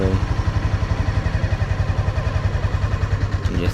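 A motorcycle engine idles with a steady, even low throb while the clutch is let out very gently, the pulse holding firm and close throughout with no revving.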